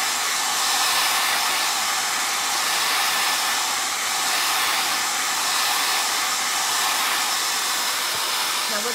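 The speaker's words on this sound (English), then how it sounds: "So let's dry this with a hairdryer." A hair dryer blows steadily to dry freshly applied milk paint, a loud continuous whooshing roar that holds unbroken for the whole stretch with no voices over it.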